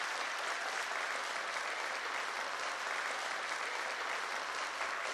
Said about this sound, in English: I exit the stage while the applause is still ongoing.